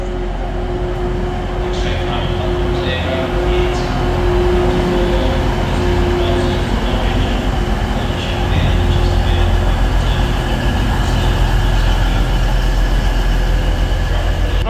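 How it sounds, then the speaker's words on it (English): A train rolls into Stockport station with a loud, steady rumble and a low engine hum, brakes squealing faintly above it while people talk on the platform. "look what we've got. We've got a train."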